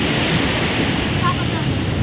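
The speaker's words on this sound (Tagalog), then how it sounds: "Dagat tayo ngayon." Sea waves washing in steadily on a beach in Batangas, a continuous broadband wash with some wind rumble on the microphone, close and fairly loud throughout.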